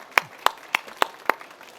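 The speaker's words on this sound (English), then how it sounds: "an applause for you, Stephan" Five sharp, evenly spaced handclaps ring out one by one in a quiet hall at a K 2025 keynote on mechanical recycling, sounding like a single person or very sparse applause rather than a full audience.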